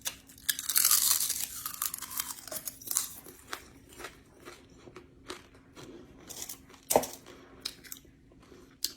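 Crisp, dry crunching and crackling bites of collard chips, irregular and close, with sharper snaps scattered through a quiet background.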